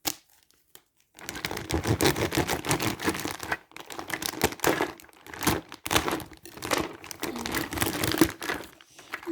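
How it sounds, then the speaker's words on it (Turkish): Plastic packaging of a hair salon toy set being cut open with a knife, a close, busy run of crinkling, tearing and crackling after a brief silence. "Böyle bıçakla açacağım"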